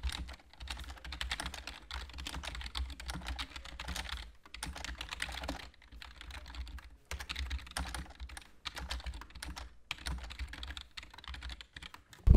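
Rapid, steady typing on a Corsair K70 MK.2 mechanical keyboard, a dense run of close clicky keystrokes with a few brief pauses and no voices.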